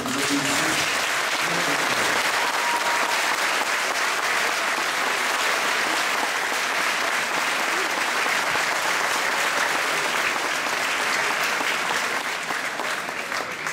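Loud, sustained audience applause fills a hall for the twenty Miss Bretagne 2010 contestants at a beauty pageant in Touvois, steady dense clapping throughout with a brief murmur of crowd at the start.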